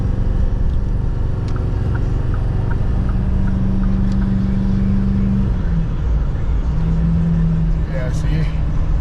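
Heavy, continuous cabin rumble from a 2008-10 Ford Super Duty Powerstroke diesel truck driving with a swapped transmission, with a steady engine tone that shifts pitch near the end and a voice talking over it.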